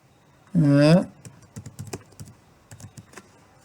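A computer keyboard is typed on while a Windows 10 Pro user account is set up: a short vocal sound, then a scatter of close, crisp keystrokes at an uneven pace.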